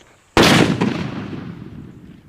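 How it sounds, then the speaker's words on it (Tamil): A small country-made Nattu Vedi sanal kundu firecracker goes off in one sharp, loud blast, then a rumbling echo slowly fades over the next two seconds. "நாட்டு வெடியில் இந்த சின்ன சைஸ் சனல் குண்டு எப்படி இருக்குது அப்படிங்கிறத பார்க்க போகிறோம்"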